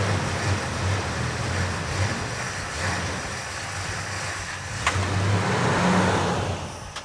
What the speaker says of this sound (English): that's almost a pint of fuel right there just running that engine.